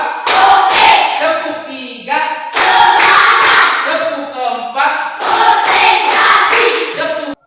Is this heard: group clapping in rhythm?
yes